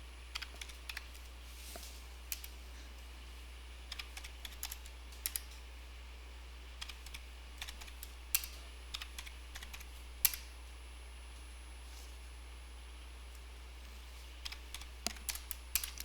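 Computer keyboard keys tapped while entering dates in an Excel spreadsheet, sparse clusters of crisp close clicks separated by quiet pauses.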